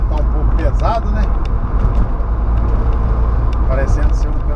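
A car drives along the MG-167 coffee highway behind a heavily loaded construction-materials truck; steady, loud road and engine rumble continues throughout as people talk over it.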